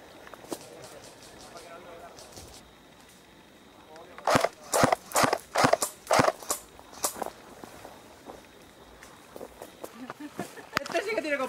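A rapid burst of sharp, loud gunshots, about six in quick succession, with fainter shots before and after amid game ambience.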